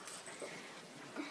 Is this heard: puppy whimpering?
yes